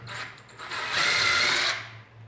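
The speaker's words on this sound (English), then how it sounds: "Now I can drill" Power drill boring into a wooden end table, a short whining burst that swells loud for about a second with a steady motor hum underneath, then winds down.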